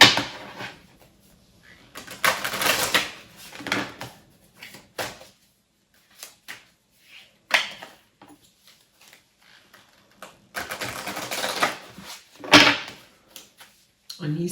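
Decks of oracle cards are shuffled in two longer bursts of papery riffling and rustling, with scattered softer card handling and taps in the quieter stretches between them.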